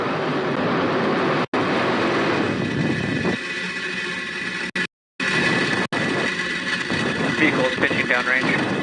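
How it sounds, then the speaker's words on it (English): A Falcon 9 rocket lifts off on a Starlink mission, its engines making a loud, continuous broadband roar with brief dropouts. A commentator talks over it. "Engines full power. And liftoff of Starlink."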